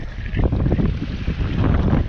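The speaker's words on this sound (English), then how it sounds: "it's real windy out here" Strong wind blowing outdoors on the water during a catfishing outing, a steady low roaring buffet that rumbles continuously and loudly with no talk.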